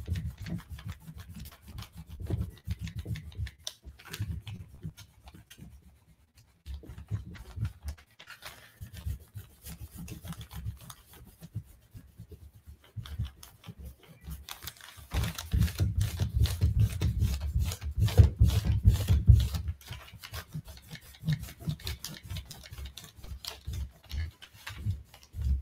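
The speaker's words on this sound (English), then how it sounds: "Just erase your pencil." A white eraser rubs pencil lines off paper with soft, rhythmic scrubbing strokes. A busier, louder burst of rapid rubbing comes in the middle.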